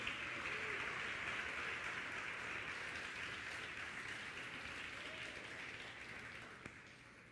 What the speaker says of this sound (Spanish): Denle un aplauso fuerte al Señor, vamos.